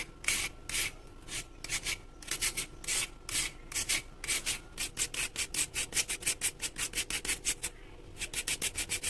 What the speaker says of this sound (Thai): ได้อย่างนี้แล้วเราจะสไลด์มันฝรั่งให้เป็นเส้น ๆ เลยค่ะ